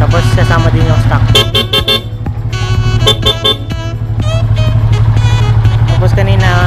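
Repeated blasts from aftermarket and stock horns on a Yamaha Sniper 150 motorcycle ring out in short bursts over a constant droning tone, loud and close throughout.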